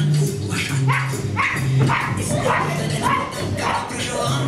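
A stage actor imitates a dog barking during an acting class showing of animal observations, giving a series of short, loud yaps and barks spaced about half a second apart.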